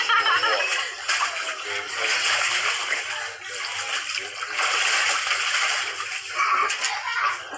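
Water splashes and sloshes in a kiddie pool as people play in it, with continuous close splashing that surges and eases. Voices are heard faintly underneath.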